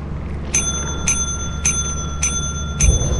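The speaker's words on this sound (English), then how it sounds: "Did you hit the bell?" A bell struck in Lethal Company rings five times in an even rhythm, each a bright, clear ding with a short ringing tail over a low background hum.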